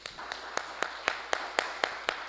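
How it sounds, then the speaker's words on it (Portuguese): Church congregation clapping hands together in a slow, steady rhythm, about nine evenly spaced claps, moderately close with no talking. "As palmas engrandecem o Senhor Jesus."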